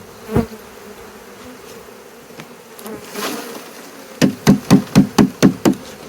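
Honeybees hum steadily near a hive during swarm catching, with a quick run of about seven sharp knocks toward the end and an earlier single thud.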